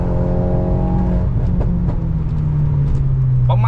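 A loud, tuned Mercedes-Benz W238 with an aftermarket Euro Arts sports exhaust drones and shifts gears, its pitch dropping with a few sharp exhaust crackles and pops in the middle.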